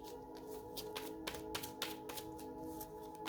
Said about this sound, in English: Hold on, I'm shuffling